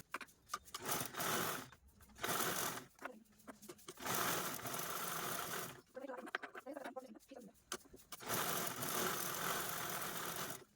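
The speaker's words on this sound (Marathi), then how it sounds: "या कडे कडेच्या तीनही साईडने आपल्याला स्टिच करून घ्यायचा आहे" A sewing machine stitching folded cloth along three sides runs in bursts of fast mechanical whirring, several runs separated by short pauses, close and clear without talk.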